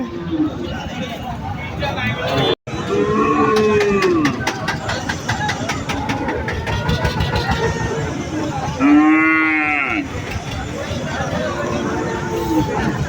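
Bulls and cows on a farm in Gazipur near Dhaka give repeated loud, drawn-out moos, nearby and clear, over steady background noise while people talk throughout.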